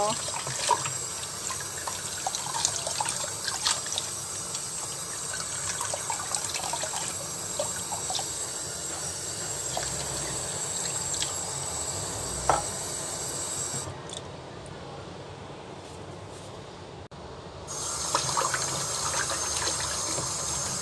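Running tap water pours steadily into a sink as string beans are washed, a continuous broadband rush with brief handling noises, the flow easing for a few seconds near the end before resuming.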